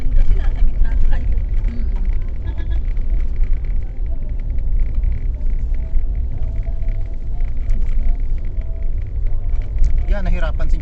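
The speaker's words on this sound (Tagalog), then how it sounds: "nahirapan si jeepney. Oh, ang bigat kasi natin." Jeepney engine labouring under a heavy passenger load in flash-flood conditions, a loud continuous low rumble with steady strain throughout and voices in the cabin over it.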